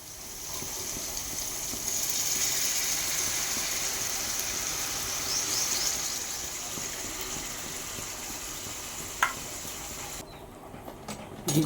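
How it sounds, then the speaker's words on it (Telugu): Tamarind juice is poured into a pan of moon fish curry, a long, steady gushing pour lasting several seconds that tapers off near the end, close and fairly loud. "ఇప్పుడు ఇందులో చింతపండు రసం యాడ్ చేద్దాం."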